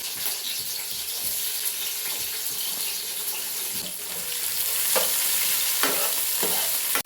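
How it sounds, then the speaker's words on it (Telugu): Onions frying in oil in a kadai give a steady, fairly loud sizzling hiss throughout, with soft scraping and clinks of stirring that grow a little busier near the end; no one speaks. "ముందుగా ఇందులో ఆనియన్స్ వేసుకుంటున్నాను"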